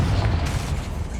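A Confringo spell explosion in the video game Hogwarts Legacy, a loud, dense, rumbling burst filling the whole short moment with no voices.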